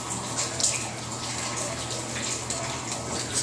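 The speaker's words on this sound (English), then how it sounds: "It's dripping off those pipes" Water leaking through a roof drips off pipes and out of the ceiling boards indoors, making a steady wet trickle and patter with faint splashes throughout, close by and fairly quiet.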